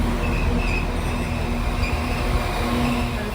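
A train on the Camp Hill Line rolls out of a station with a loud, steady rumble of wheels and a sustained hum, close by and continuous, with no voices.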